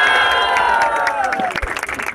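Rap battle audience cheers and claps for rappers Chuva and Soares, a loud crowd roar with scattered applause that thins into individual claps and shouts toward the end.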